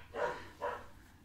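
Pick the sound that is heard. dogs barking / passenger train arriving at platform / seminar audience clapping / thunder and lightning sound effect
dogs barking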